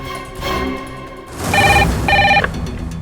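A telephone rings during a call to the police, two short bursts of electronic ringing after a moment of low background sound.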